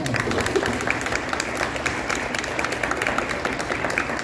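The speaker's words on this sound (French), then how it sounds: "Merci beaucoup à tous les deux, on peut vous applaudir." Audience applause closing a science discussion at a festival in Lyon, a steady dense wash of clapping that holds evenly throughout with faint voices mixed in.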